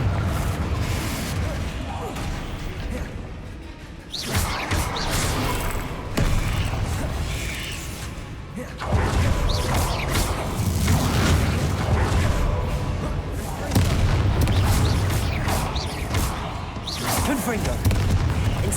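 Repeated fiery Confringo blast spells in the wizarding game Hogwarts Legacy, heavy booming impacts in several waves over a continuous roar of combat, with a voice speaking over parts of it.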